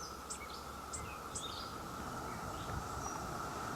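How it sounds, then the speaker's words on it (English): Shrill, steady buzzing of a singing male cicada outdoors in Washington, DC, a continuous drone with a few short bird chirps above it. "Only the male cicadas sing. The shrill call is produced by a special membrane called a tymbal."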